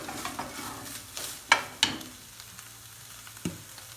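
Beef hearts and kidneys pan-roasting in their own released juices, giving a steady close sizzle broken by a few sharp clacks and scrapes from stirring, with no voices.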